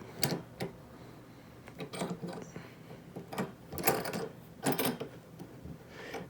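Clamp on a microphone arm being wound tight against a table edge: a series of short, close mechanical ratcheting clicks and grinding bursts in irregular clusters, fairly quiet, with no talking.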